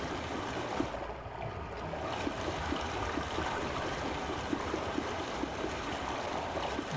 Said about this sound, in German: Es läuft hier bestimmt Wasser durch.